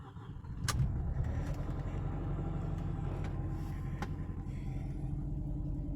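A Mercedes-Benz car engine starts after sitting unused for two months. A brief burst catches near the start, then settles into a steady, close low rumble that continues alone.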